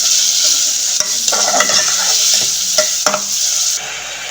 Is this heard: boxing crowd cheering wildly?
no